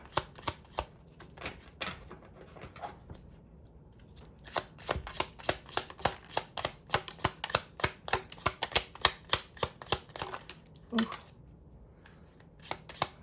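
A deck of tarot cards is shuffled by hand in a rapid run of crisp, close riffling flicks, with short pauses between bursts and a voice talking faintly at times.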